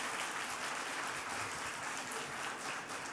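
Sustained audience applause at a French-language gaming conference session honoring a guest, a dense, steady wash of many hands clapping throughout, fairly distant and even in level.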